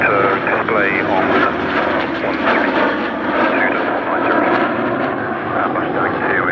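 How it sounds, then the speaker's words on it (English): A formation of propeller warbirds, including a P-47 and a Mustang, flies past at Sywell Airshow, a loud sustained engine drone with shifting pitch while an announcer talks over it. "coming in again from your right hand side, here comes our lovely formation, led by Cam in that P-47."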